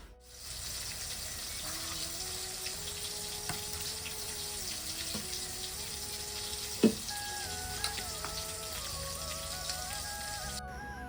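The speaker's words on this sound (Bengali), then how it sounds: "প্রথমে এক কাজ করি পটলটাকে ভেজে নিই পটলটা ভেজে তারপরে আসছি" Pointed gourd (potol) frying in a pan, a steady close sizzle running throughout with a few soft clinks and one sharp knock partway, no talking.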